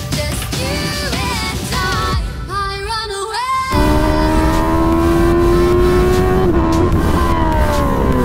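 A race car engine with a stuck throttle revs hard and close, its harmonic whine climbing and dipping through several swells before settling into a loud, sustained high-rev roar.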